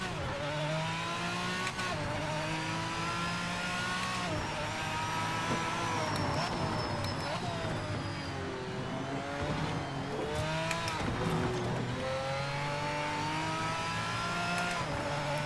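An LMP prototype race car in Project Motor Racing drives at full speed, its engine loud and continuous with pitch climbing and dropping through upshifts and downshifts, plus occasional tyre squeal, and no talking.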